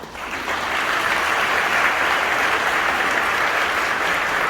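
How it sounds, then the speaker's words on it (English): A round of applause from an audience at an interior design awards gala, a dense and steady wash of clapping that rises quickly and holds loud and even throughout. "So please give yourselves a round of applause."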